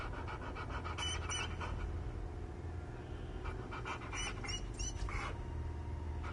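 A puppy in the video game Hell Is Us, found abandoned in a house, pants steadily and gives a few soft whimpers, close by over a constant low background hum.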